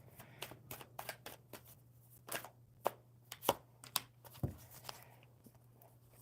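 Tarot cards shuffled and gathered up by hand during a reading, a run of quick soft riffles and papery slaps with a few sharper snaps, close and fairly faint over a steady low hum.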